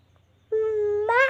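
A voice imitates a cat's meow, a single drawn-out, close, fairly loud call after a brief quiet pause, rising in pitch at the end.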